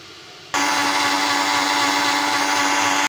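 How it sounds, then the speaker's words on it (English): A blender whirs loudly and steadily for a few seconds, blending coconut milk powder with water, starting abruptly after a quiet moment, with no talking. "I have to blend this coconut uh, milk powder with some water"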